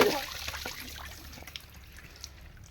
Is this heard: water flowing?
yes